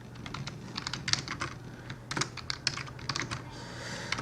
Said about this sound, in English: Just typed in a few keywords.